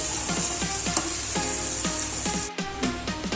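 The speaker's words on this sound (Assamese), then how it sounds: "এতিয়া ভালকৈ ভাজিম অলপমান টাইম" Pork frying in a pan with pumpkin and potatoes sizzles loudly and steadily at close range, broken by repeated scraping stir strokes and a brief dip near the end.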